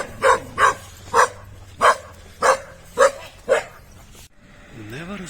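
A dog near a Chinese house in a Sarawak town gives seven evenly spaced barks, close and loud, before a voice begins.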